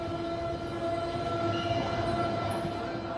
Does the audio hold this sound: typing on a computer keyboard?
no